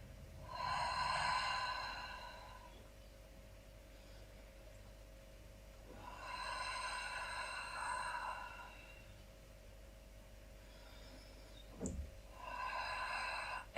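Slow, deep breaths during a stretching and mobility session: three long audible breath cycles, each a soft airy exhale separated by pauses, close and quiet with a faint steady background hum.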